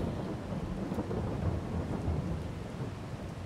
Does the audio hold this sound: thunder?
yes